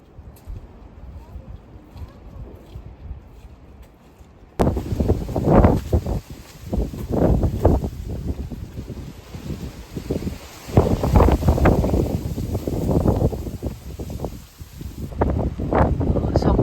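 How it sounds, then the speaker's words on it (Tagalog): Strong wind buffeting the microphone outdoors in Copenhagen on a rainy day, loud rumbling gusts that swell and fade after a quieter opening, with voices talking underneath. "Sobrang mahangin guys"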